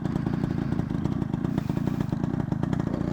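A 1990s Yamaha RX100, a Japanese two-stroke motorcycle, runs steadily up close, its engine giving off a continuous buzzing rattle with no pauses and no one talking.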